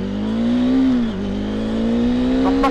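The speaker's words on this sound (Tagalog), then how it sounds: "Papakita ko muna sa inyo kung gaano pa siya ka-responsive ang motor na to" A Bajaj Dominar 400 motorcycle accelerates hard, its loud engine drone climbing steadily in pitch, dipping briefly as it shifts gear, then climbing again up close, with no talking.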